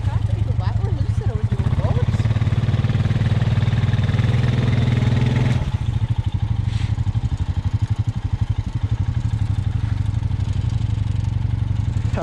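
A 2020 Honda 520 Rubicon ATV on 32-inch tires pushes through waterlogged mud, its engine chugging in a steady, pulsing idle that shifts tone midway, with a person talking over it.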